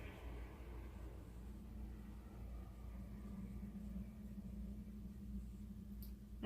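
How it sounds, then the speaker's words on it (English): A passing car heard from the second floor of a hotel, a low steady rumble through the whole stretch, muffled and indoors, with a faint brief clatter at the very end. "a car just went by, so you guys probably just heard it"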